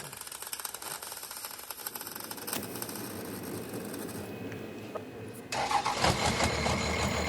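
The diesel-swapped engine of a Ford Torino wagon cranks with a rapid, rough churning, then catches and settles into a loud, uneven idle up close.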